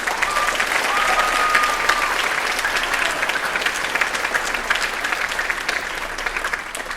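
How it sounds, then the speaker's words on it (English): A school band concert audience applauds warmly, with dense, sustained clapping from a large crowd that stays loud throughout and fades slightly near the end. "Can we give them another round of applause?"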